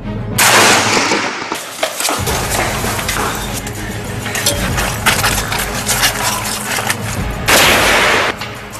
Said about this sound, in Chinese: 与何英树相比，王明超小组的射击果断了很多